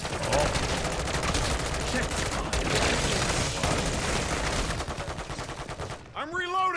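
Dense gunfire during a Call of Duty MW3 Zombies gunfight, with rapid automatic bursts and booms packed together at a loud, sustained level. A person reacts briefly near the end.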